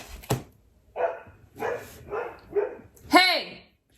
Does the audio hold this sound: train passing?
no